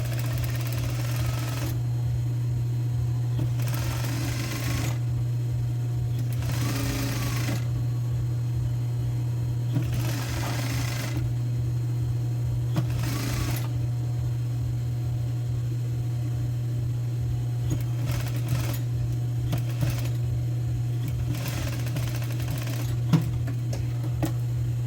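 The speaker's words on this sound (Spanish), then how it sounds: "voy a coser a la orilla del sesgo" A domestic sewing machine runs steadily, stitching bias binding along the edge of a women's blouse; its close, continuous motor hum and rapid needle chatter carry through, pausing briefly now and then before starting again.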